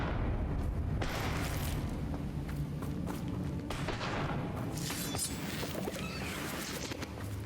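Fiery Confringo blast spells cast in Hogwarts Legacy on PC, a dense, loud rumbling roar with repeated bursts and crackling impacts layered over continuous game noise, no talking.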